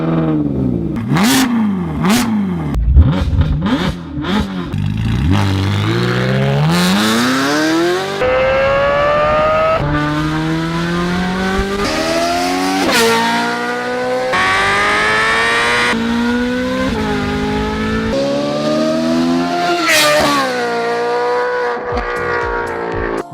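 A Ferrari California in the Need for Speed Shift racing game, its engine revving hard and loud through repeated rising gear pulls and shifts, with brief tire squeal, no voices.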